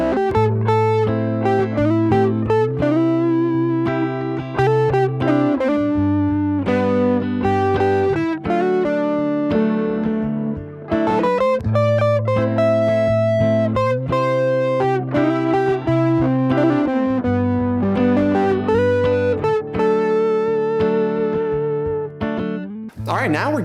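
Electric guitar solo with effects and distortion that plays melodic phrases over a sustained backing, with short gaps between lines and repeated motifs, loud and continuous for over 20 seconds.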